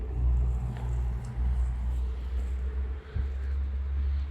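A car climbs steeply toward Shinkula Top at about 13,000 ft, giving a steady, heavy low rumble that holds throughout with a brief dip near the end.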